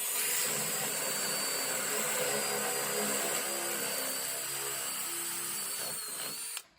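Power drill boring into a bathroom wall beside plumbing while a vacuum collects the dust, a loud continuous high whine and motor roar running steadily for several seconds before cutting off abruptly at the end.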